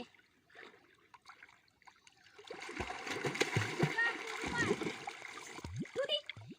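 Water splashes and gurgles as children play in it, the churning rising midway through and staying busy, with voices mixed in over the sloshing.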